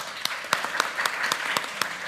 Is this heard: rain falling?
no